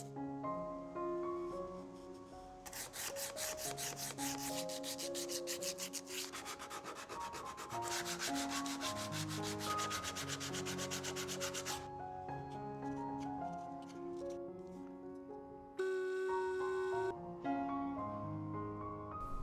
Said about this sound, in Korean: 사포에 잘 갈아 평평하게 만듭니다.